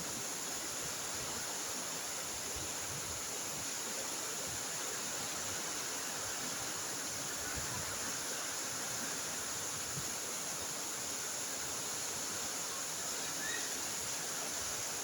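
Strong wind and heavy rain with rushing water outdoors, a broad steady roar at moderate level throughout, no talking.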